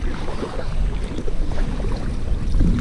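Inflatable Intex Excursion Pro kayak paddled through current and strong wind on a New Jersey saltwater back bay, steady wind rush and water splashing close by, with no talking.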